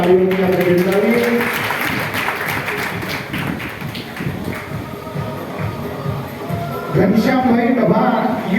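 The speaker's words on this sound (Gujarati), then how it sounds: "તાળીઓથી આપણે બિરદાવીએ." Audience clapping at a Swaminarayan Shakotsav festival gathering in Dabhan, a dense patter of many hands mixed with someone talking over a loudspeaker, loud and continuous throughout.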